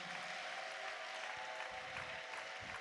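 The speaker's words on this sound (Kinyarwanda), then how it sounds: "Mukoma amashyi nyamuneka." Congregation clapping at an ADEPR church prayer service, steady dense applause running throughout alongside music or singing, fairly distant and even.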